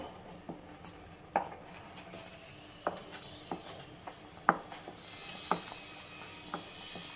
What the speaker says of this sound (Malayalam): ഇളക്കി കൊടുത്തോണ്ടിരിക്കാം